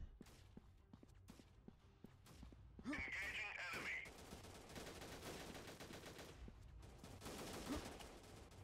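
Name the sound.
gunfire in video game Freeman: Guerrilla Warfare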